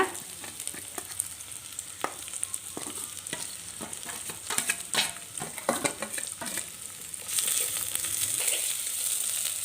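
Ginger and onion sauté in a clay pot, giving a steady close sizzle broken by repeated scraping stirs. The frying grows louder and hissier near the end, with no talking.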